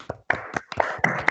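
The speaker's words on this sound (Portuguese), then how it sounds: "Uma salva de palmas para a Rubiana aí" Scattered hand claps from a small group applauding a presenter at a thesis defense panel, a few sharp close claps spread unevenly over a short burst.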